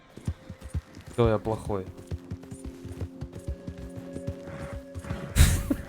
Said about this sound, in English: Hey, the horse!